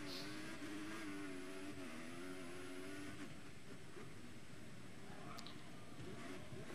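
A Formula One race car engine in the F1 2014 video game drones steadily and loudly throughout, its pitched whine wavering and shifting partway through, with no one talking.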